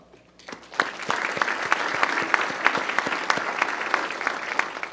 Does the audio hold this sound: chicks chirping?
no